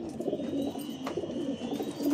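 A pigeon coos close by in soft, repeated low murmurs, with a faint background hum and no voices.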